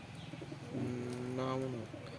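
Black lakka fancy pigeons in a loft give a soft rolling coo lasting about a second, quiet and close against faint room noise.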